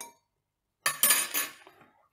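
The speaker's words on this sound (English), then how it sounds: "put the coffee in your cup" Coffee goes into a cup beside a JetBoil stove: a short burst of clinking and scraping, like a spoon tapping a metal or ceramic cup, after a moment of quiet, close and fairly soft.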